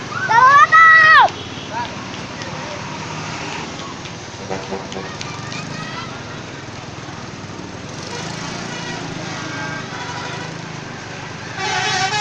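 A telolet musical bus horn plays a short, loud melodic toot near the start, then fades into steady roadside traffic noise with faint, brief horn notes later.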